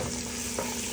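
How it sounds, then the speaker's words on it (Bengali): Onions and potatoes stirred in a frying pan with a little olive oil, giving a steady close sizzle with faint scraping from the stirring, no voices. "নাড়াচাড়া হচ্ছে"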